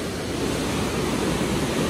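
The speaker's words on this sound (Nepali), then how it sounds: "अस्ति नै आउँदा त खोला थिएन यत्रो ठुलो" Steady roar of a swollen river rushing close by, dense and unbroken, with no voices.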